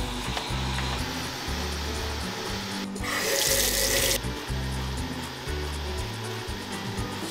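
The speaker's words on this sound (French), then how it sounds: "Je vais faire la vaisselle." Dishes are washed at a kitchen sink under a steady stream of tap water. A louder, brighter gush of water lasts about a second midway through, with faint clinks underneath.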